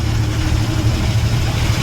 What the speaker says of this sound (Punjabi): ਟਰੈਕਟਰ ਟਰਾਲੀਆਂ ਬਹੁਤ ਆ ਰਹੀਆਂ ਨੇ